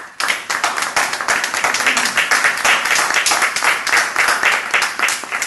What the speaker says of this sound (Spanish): quiero pedir un aplauso para todos vosotros y para Winnie Mandela